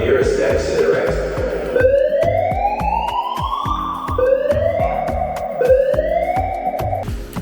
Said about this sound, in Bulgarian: Окей, алармата спря